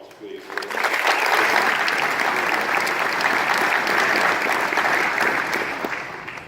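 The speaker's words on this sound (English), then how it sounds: "Can you give them a round of applause" An audience at a Tennessee Hall of Fame induction ceremony breaks into loud, sustained applause that swells quickly, holds steady for several seconds and then begins to fade.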